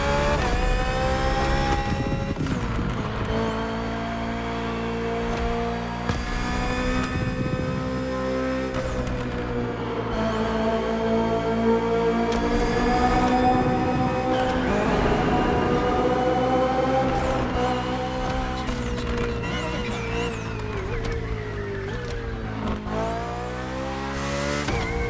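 A BMW M Hybrid V8 endurance race car screams along in The Crew Motorfest, its loud, continuous engine note sweeping up through repeated high-revving gear changes and dropping between shifts, with no voices over it.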